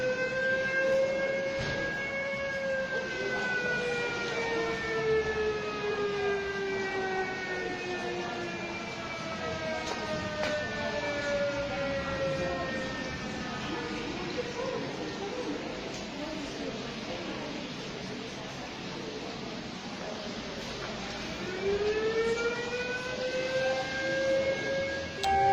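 An old ambulance siren at an emergency services museum wails, rising and slowly falling in long sweeping tones, then winds up again, steady and loud against a low background rumble.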